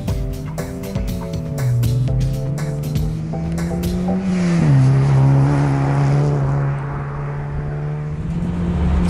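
A modified Toyota Yaris races laps on the Curborough sprint course, its engine droning loud and near with rising and falling pitch through gear changes, with brief tire squeals early on.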